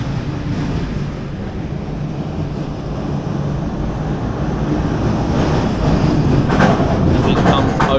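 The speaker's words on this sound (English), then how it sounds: "and then you'll hear the train, which is going around there at the moment." A roller coaster train runs along its track nearby, a continuous low rumble and rattle that slowly grows louder, with faint clatter near the end.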